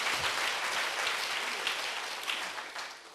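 Congregation at a Korean Sunday church service applauds in unison, a steady dense wash of clapping filling the room that tapers slightly toward the end.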